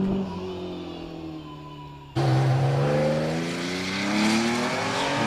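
A Porsche Cayman S with a 3.4 litre engine sits at a hillclimb start line, its engine idling and then abruptly swelling into a loud, sustained rev with rising pitch, close and continuous.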